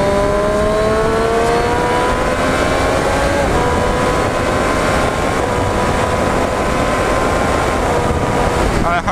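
A Triumph Street Triple 765 RS motorcycle accelerates hard to overtake, its engine note climbing steadily in pitch through the gears, loud and close amid heavy wind roar, with a voice speaking over it.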